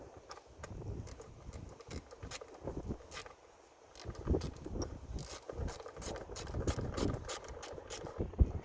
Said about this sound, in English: Then the 8mm bolt goes in.